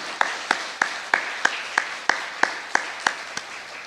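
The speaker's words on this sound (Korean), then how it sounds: "우리 오늘 처음인데 뜨겁게 박수를 한번 격려 한번 할까요?" A single pair of hands claps in a slow, steady rhythm, about a dozen crisp separate claps, encouraging new worship team members at a Wednesday church service.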